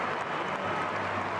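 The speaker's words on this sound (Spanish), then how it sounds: "Aplausos para el máximo goleador del Villarreal" Stadium crowd at a Villarreal–Valencia LaLiga match applauding Villarreal's top scorer as he leaves the pitch, a steady, distant wash of clapping and crowd noise with no distinct individual claps.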